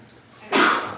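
A single sudden sneeze bursts out in a meeting room during a school board session, loud and close after a quiet stretch, with a brief trailing breath as it fades.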